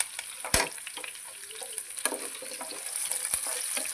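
Curry leaves frying in hot oil in a pan for amla dal, with a continuous crackling sizzle broken by a couple of sharp clanks from a spoon, and no voices.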